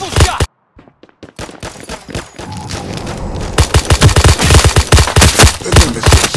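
Rapid bursts of video game gunfire from a triple shot, loud and close, with sharp repeated cracks that pause briefly before a dense volley; a voice is briefly heard among the shots.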